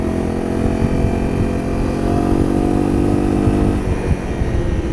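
Honda CRF 250 L motorcycle cruising at quarter throttle, a continuous close engine drone with the exhaust rumbling and faint popping underneath, loud and steady with no talk.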